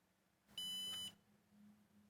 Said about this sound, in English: I will wait for beep.